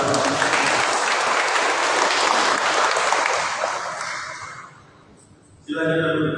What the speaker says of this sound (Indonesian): Tepuk tangan untuk Iqbal.